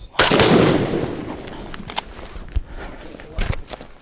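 A single loud shotgun blast from a Tristar Viper G2 .410 during a rainy Ohio turkey hunt cracks close by, followed by a decaying rumble and a few softer knocks and rustles.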